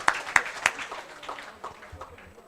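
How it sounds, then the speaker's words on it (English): Brief applause greets Aissatou Diouf, a poetry performer, at an intergenerational dialogue event in The Gambia. A few sharp claps stand out at first, then soften into scattered, fading clapping with faint room noise underneath. "Please join me in welcoming her with a big round of applause"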